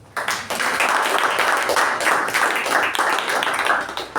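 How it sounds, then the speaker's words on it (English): Members at a Toastmasters club meeting give a hearty round of applause that starts abruptly, stays steady and close, then thins toward the end, with no talking over it. "I would request everyone to give a huge round of applause for Acting Secretary Toastmaster Madhu"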